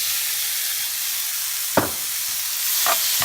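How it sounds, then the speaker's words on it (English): Tomatoes hitting a hot, dry pan for an Indian baingan bharta give off a steady, close sizzling hiss, broken by a few brief louder bursts of spatter. "It only takes around a minute for those tomatoes to deglaze the pan and get everything back to normal."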